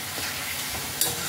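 Pumpkin leaf paste stirred in a hot pan, a dense, continuous close hiss of frying with a faint scrape near the end and no voices.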